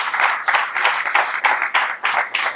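An audience at a Dr. Babasaheb Ambedkar Jayanti gathering claps in steady repeated bursts, a dense crowd of hands, moderately loud and close, with no talk over it.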